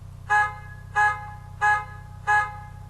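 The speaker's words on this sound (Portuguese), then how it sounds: "Vamos ouvir o som da buzina do caminhão?" Four short horn blasts from a truck, evenly spaced, loud and bright over a low steady engine rumble.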